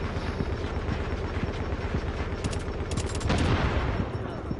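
Dense video game gunfire, with rapid automatic bursts and a constant heavy rumble like a helicopter overhead, loud and continuous throughout with no break.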